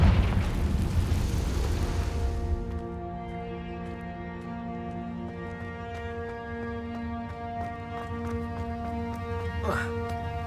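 A fiery Confringo spell blast in Hogwarts Legacy bursts loud and booming at the start, then fades into a sustained ringing, humming drone with a brief rising whoosh near the end.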